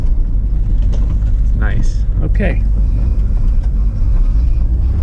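Mazda RX7 engine and exhaust while driving, a loud, steady low bassy drone from inside the car, with someone briefly speaking over it.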